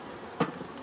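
Honey bees buzz faintly at a hive in a late-season apiary, a soft low hum with one brief louder burst of wingbeats as a bee passes close.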